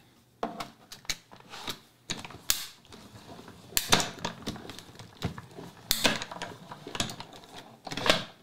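A die-cutting machine punches honeycomb shapes from linen paper, giving a series of sharp mechanical clacks and creaking cranks in irregular bursts, close up and alone.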